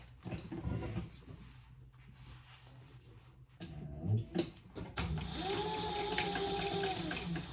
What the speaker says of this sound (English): we're gonna sew those at a 1/4 inch